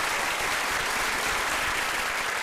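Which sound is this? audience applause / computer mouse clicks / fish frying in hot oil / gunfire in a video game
audience applause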